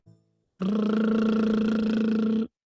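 A brief voiced hum, then a steady buzzing lip trill held for about two seconds, even and fairly loud, produced alone.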